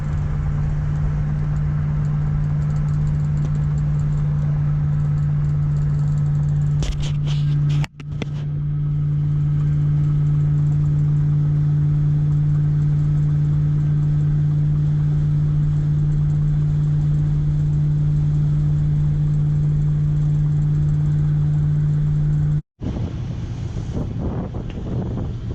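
A 1966 Oldsmobile Toronado drives along, its engine a steady loud drone mixed with heavy wind buffeting, broken by a couple of brief thumps and a sharp dropout near the end.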